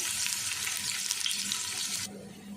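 Steady, bright sizzling of finely chopped garlic frying in hot ghee, close and continuous, with faint stirring; the hiss cuts off abruptly near the end.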